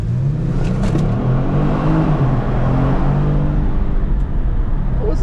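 A 2018 Kia Stinger GT accelerates hard inside a tunnel, its engine roar loud and steady with a rising pitch, echoing off the walls for several seconds with no talk.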